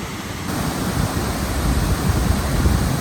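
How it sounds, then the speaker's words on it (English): Roaring river water rushing beside a mountain hiking trail in the Eagle Cap Wilderness, a dense, continuous broadband roar that stays loud and steady throughout with no voices. "You hear the sound of water roaring."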